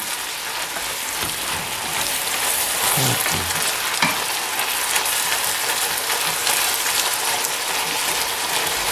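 Minced beef browns loudly in a pan for lasagne, a dense and constant crackling sizzle close at hand, with a few soft thuds from stirring near the middle.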